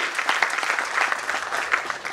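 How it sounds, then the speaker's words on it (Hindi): Audience at an award ceremony in Indore breaks into strong, steady applause, a dense close burst of clapping filling the whole moment. "एक बार पुनः जोरदार तालियों से आलेख जी का सम्मान करिए।"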